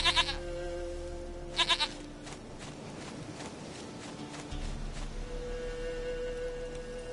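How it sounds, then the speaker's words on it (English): A goat in The Witcher 3: Wild Hunt gives short bleats, one at the start and another after about a second and a half, over game ambience and scattered footsteps. "Goat of mine, dearest, sweetest goat."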